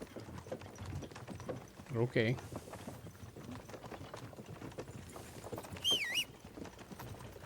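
Rhythmic clip-clop of horse hooves pulling a cart in Kingdom Come: Deliverance II trots along steadily while a person speaks briefly, with a few chimes and game effects layered over the scene.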